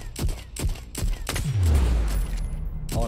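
Gunfire from the player's own gun in a Super People battle royale match: several sharp, loud shots in a quick uneven burst, followed by a long low rumbling tail and a short voice at the end.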